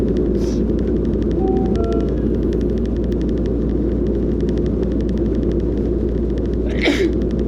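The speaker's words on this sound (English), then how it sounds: "Whenever you sneeze and spit comes out, you don't expect it." A single short sneeze bursts out near the end, over a steady low rumbling background hum.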